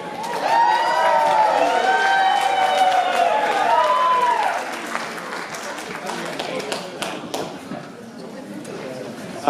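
Wedding reception guests clap and cheer as the best man takes the floor, the applause scattered and thinning over several seconds while a melodic tone and crowd chatter sit on top early on.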